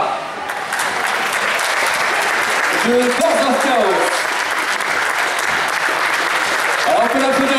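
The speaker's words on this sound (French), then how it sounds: "Alors on peut l'applaudir bien fort." Loud, dense applause for a first-place winner at a Mantes event, sustained throughout, with a voice speaking over it at moments.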